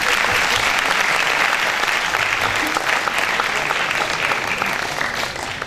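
Loud, dense applause from a large crowd at a national patriotic slam poetry championship, sustained evenly throughout without a break.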